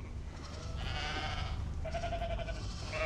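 Sheep bleating in the film Lamb: two drawn-out, wavering bleats, one after the other, over a steady low background rumble.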